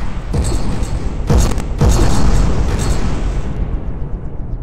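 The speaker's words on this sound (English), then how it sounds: "there we go, firing the broadside guns" Broadside guns on a ship fire in the From the Depths video game, several loud booming blasts in close succession that fade into a rumbling tail.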